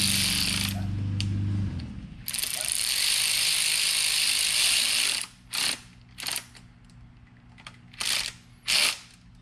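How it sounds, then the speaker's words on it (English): A ratchet tightens screws on a two-stroke Mercury 175 outboard, with a long clicking run at first and then several short bursts of clicks, close and fairly quiet. "Now I'm gonna put the screws in, and that should do it."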